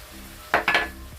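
Ground onion, garlic powder and cumin sautéing in a pot for a spiced vegetable soup, heard as two short bursts of sizzle and stirring scrapes over a quiet low hum.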